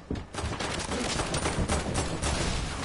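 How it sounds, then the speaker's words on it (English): Rapid gunfire in a video game, a dense burst of repeated shots crackling loudly and continuously for a few seconds with no voices. "Shooting into his box"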